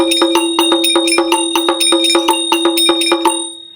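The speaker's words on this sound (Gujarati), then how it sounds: "આ ઝાલર મશીન. આને આરતી મશીન પણ કહેવાય છે." An electric jhalar aarti bell machine for a home temple strikes its bell in a fast, steady series of bright metallic rings, loud and close, with no talk over it.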